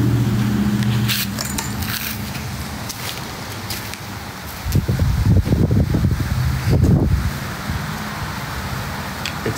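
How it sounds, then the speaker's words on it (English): Gusty wind at a beach buffets the microphone in broad rumbling bursts, strongest in the middle, with low broadband roar throughout. "It's so windy."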